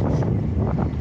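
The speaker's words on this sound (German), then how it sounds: "Ganz schön windig heute. Richtig, richtig windig." Strong wind gusts during a bicycle ride on a blustery day in northern Germany, a loud continuous low rumble of wind buffeting the microphone.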